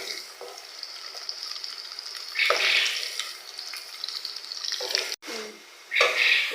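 Onion and garlic with whole cumin seeds frying in oil in a pan, a steady soft hiss and sizzle with brief louder bursts as the food is stirred.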